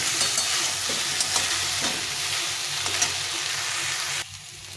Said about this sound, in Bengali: এটা দিয়ে ভালো করে একটু কষিয়ে নিতে হবে